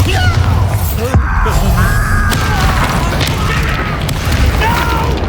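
A Bombarda blasting spell goes off in a fantasy video game, a loud booming burst layered with clattering mechanical effects and some yelling voices.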